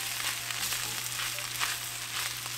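Rice being stir-fried and stirred in a one-pot jambalaya, giving a steady, faint sizzle with a low constant hum beneath and occasional soft scraping, no voices.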